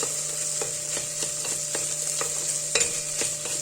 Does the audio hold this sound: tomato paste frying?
yes